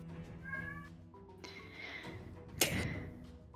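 A whiny house cat meows close by, a couple of drawn-out, rising cries followed by a sharper, louder yowl near the end, heard over faint room noise and the steady murmur of a game or stream in the background.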